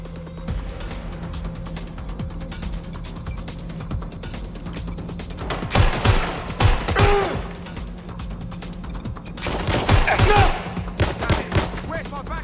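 Bursts of rapid gunfire in the video game Watch Dogs: Legion, two dense volleys crackling over a steady electronic hum and background game sounds, with a faint voice underneath.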